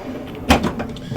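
A mechanic's tool box drawer, the last one in an automotive technician's box, slides open in one short, close rolling scrape with a faint rattle of the hammers and pry bars inside.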